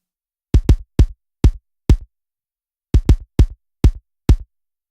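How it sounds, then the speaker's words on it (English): A synthesized kick drum plays soloed in two identical groups of five thumps separated by a short gap, each hit deep, short and punchy with little high-end attack, dry and close. "kick 1 is my main kick. Sounds like this soloed."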